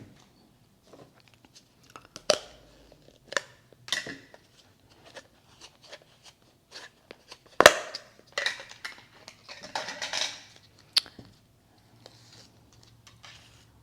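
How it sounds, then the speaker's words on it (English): A second can of spackling is pried open, giving scattered sharp metallic clicks, taps and scrapes, with one loud pop near the middle and a burst of rattling after it, all close up in an otherwise quiet room. "Now I am gonna open up a second can and add a little bit more to this."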